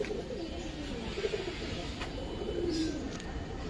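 Giribaz pigeons coo in low, rolling calls that repeat through the clip over a steady hum of background noise, fairly close and moderately loud.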